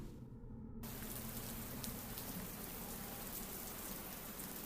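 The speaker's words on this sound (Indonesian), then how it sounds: "Tiba-tiba terdengar suara rintik hujan lagi." Steady rain pattering on a surface, a dense even hiss of drops with a faint distant rumble, running continuously on its own with no voices, used as a sound effect in a horror audiobook.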